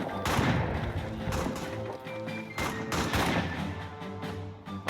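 Rapid rifle and machine-gun fire from a German squad suppressing French troops in a World War I trench video game, with dense overlapping bursts and shots rattling continuously at moderate distance.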